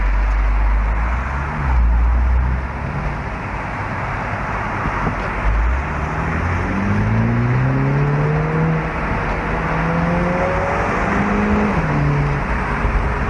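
A Mini Cooper S Convertible with a 192 hp twin-turbo petrol engine drives along with a steady engine drone and road rumble, the engine note rising as it revs up through the gears. No one speaks.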